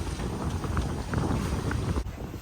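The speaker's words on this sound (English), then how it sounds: "Winds came back" Strong wind roars steadily across a sailboat's microphone while sailing off the south coast of France with a reefed mainsail, a constant broadband rush with low rumble and water noise throughout, no voices.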